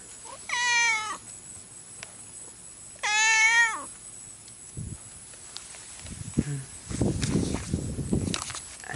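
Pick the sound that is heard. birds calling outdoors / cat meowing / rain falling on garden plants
cat meowing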